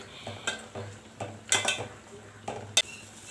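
Chillies, salt, turmeric and ginger garlic paste being mixed with a spoon in a metal pan for gongura pachadi, giving irregular scraping clinks and a few sharper knocks against the vessel, close and moderately loud.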